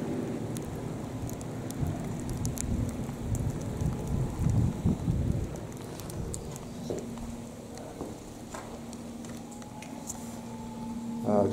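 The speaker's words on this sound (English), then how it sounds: "it's raining" Steady rain falls outdoors in stormy weather, a soft continuous hiss with scattered drops and low rumbling beneath, at moderate loudness throughout.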